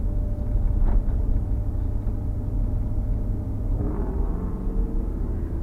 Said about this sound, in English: that was a loud truck back there, scared me